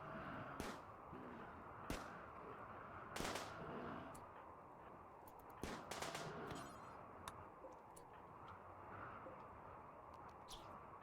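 Scattered gunshots in the video game Rimworld as colonists fire on an animal gone mad, sharp isolated cracks at irregular intervals over a steady background hum, with a few brief chirp-like ticks.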